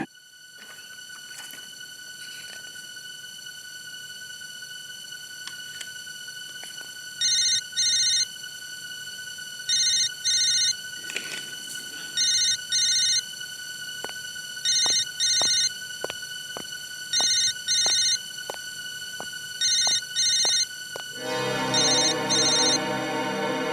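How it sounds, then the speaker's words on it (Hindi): A telephone rings in repeated double bursts at an even pace over a steady background hum, then a busier electronic tone takes over at the end. "बार बार क्यों फोन आ रहे हैं इसके?"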